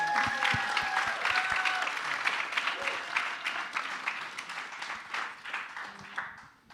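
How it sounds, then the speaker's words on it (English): An audience at a short film premiere claps in sustained, dense applause that is close and lively at first, then gradually fades out toward the end, with a few voices mixed in. "That's like big round of applause."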